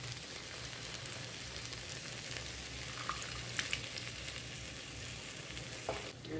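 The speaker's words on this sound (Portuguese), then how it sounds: "Agora eu vou colocar também molho de tomate." Tomato sauce poured into a pan of cowpea tripe stew with mint and pepper, steady frying sizzle throughout with soft stirring clinks near the end, no talking.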